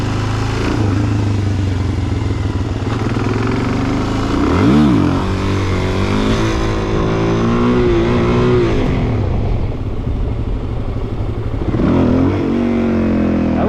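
Suzuki DRZ400SM motorcycle engine revving hard and dropping repeatedly during wheelie attempts, loud and close, with rising and falling pitch sweeps and no talk.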